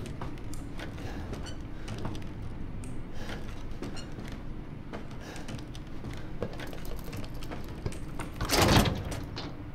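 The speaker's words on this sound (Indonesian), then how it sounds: "Ini kok pintunya pintu besi ya" A heavy iron door like a prison door creaks and scrapes open in a horror game, with faint clicks and footsteps before a loud metallic clang near the end.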